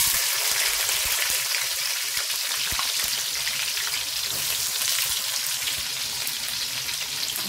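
Onions frying in vegetable oil in a pan while spaghetti is being cooked, a steady close sizzle with crackling that holds through the whole stretch, no voices.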